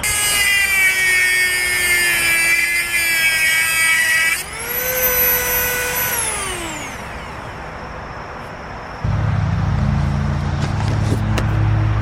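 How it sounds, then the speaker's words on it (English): A power tool with a cut-off blade whines at high pitch while cutting metal for a handmade knife, spins up and winds down, then a rougher grinding buzz starts near the end, loud and continuous with no talking. "So it's time to try some power tools."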